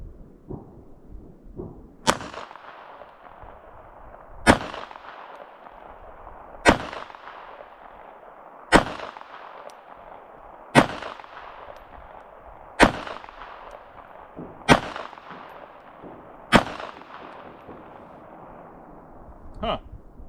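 Beretta Tomcat pistol fired at a 7-yard range, nine sharp, loud shots spaced about two seconds apart in a steady, deliberate rhythm with brief ringing after each crack.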